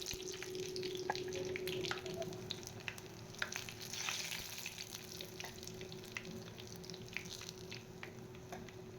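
Eggplant and tomato slices frying in hot oil, turned to cook the second side: a dense, continuous close sizzle with scattered sharp crackles and pops throughout, no voices.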